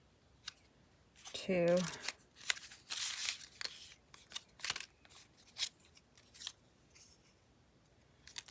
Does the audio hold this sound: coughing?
no